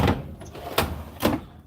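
Makita tool drawers sliding open in a workshop, giving three brief rattling slides spaced about half a second apart, fairly close and with no talk.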